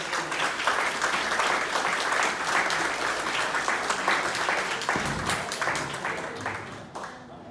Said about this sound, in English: So if you could please join me in giving Keith a round of applause for his successful work.